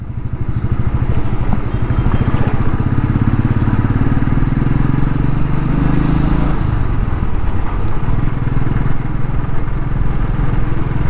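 A motorcycle engine thrums steadily and loudly up close while riding, with a fast pulsing exhaust beat and a shift in pitch partway through.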